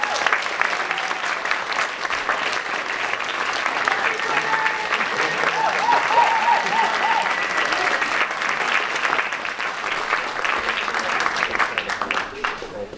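Sustained applause from the audience at an awards ceremony honoring inspiring women, steady and full throughout the room, with a few cheers and voices mixed in.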